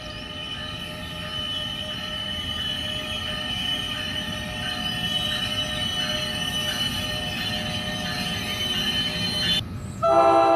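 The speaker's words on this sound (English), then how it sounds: "we see another ALP 46 leading its train into the station to pick up passengers" An ALP 46 locomotive leads its passenger train into a station, with a steady rumble, sustained tonal whine and squeal running throughout, growing louder with a sharp shift near the end.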